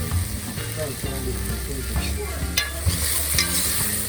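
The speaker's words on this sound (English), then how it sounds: "Everything I let them fry up, man." Okra with curry fries in a pot outdoors in Jamaica, giving a steady, loud sizzle under scraping stirs and a low background hum, with no clear talk.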